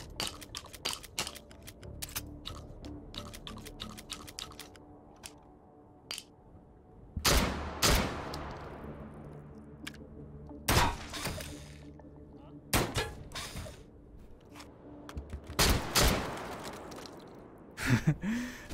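Shotgun fire in the VR shooter Hot Dogs, Horseshoes & Hand Grenades' Take & Hold mode: sharp, loud blasts ring out irregularly, several close together, among quieter clicks and handling noises.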